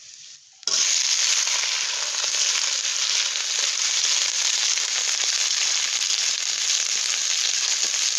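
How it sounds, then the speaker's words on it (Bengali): Capsicum, onion, ginger and green chilli hit a hot pan and erupt into a loud, steady sizzle that holds evenly for several seconds after a quiet start. "আগে থেকে ক্যাপসিকাম আর পেঁয়াজ ডুবুডুবু করে কেটে নিয়েছি আর কাঁচা লঙ্কা এগুলো দিয়ে দিচ্ছি"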